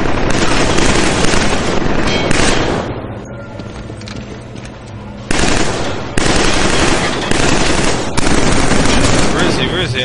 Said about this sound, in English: Who are you firing at, dude?